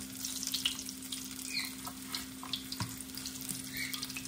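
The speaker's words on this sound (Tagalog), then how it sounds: "Piniprito ko naman ngayon, mga kasimple, ang pampano natin." Pompano fish frying in oil, a steady soft sizzle with scattered crackles and a constant low hum in the background, no voices.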